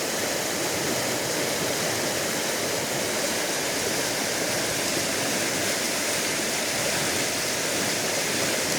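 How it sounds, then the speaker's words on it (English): A creek flooded after a night and morning of heavy rain rushes past in a steady, loud, unbroken roar of water, with no voices. "The creek in the back there is up as the highest I've ever seen it"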